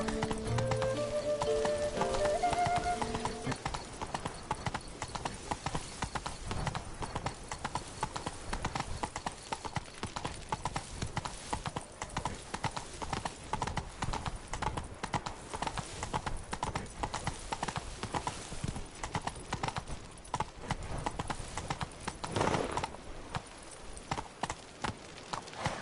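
A horse gallops in The Witcher 3: Wild Hunt, its hooves pounding in a steady, rapid clip-clop rhythm throughout, accompanied by game music and ambient sound at the start and a brief swell midway.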